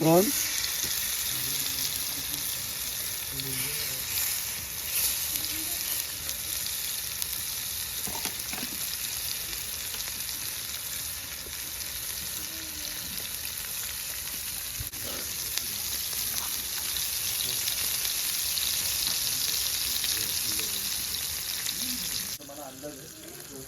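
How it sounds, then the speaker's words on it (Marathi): Garlic and curry leaves fry in hot oil at the start of a prawn and chicken fry, giving a steady, moderate sizzle with no voices. "पहिला लसूण आणि कढीपत्ता टाकून घेतलाय"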